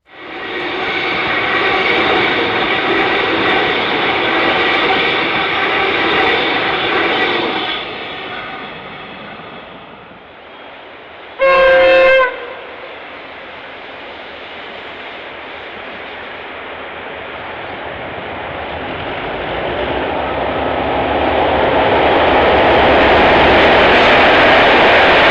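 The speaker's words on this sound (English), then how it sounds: "the train flies over the Darebin Creek Bridge in Elphington" A heritage diesel train crosses the Darebin Creek Bridge, a loud droning engine roar passing near, fading, then rumbling wheels rising again, with a brief horn-like tonal blast in the middle.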